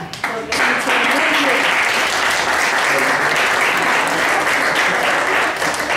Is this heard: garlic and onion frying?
no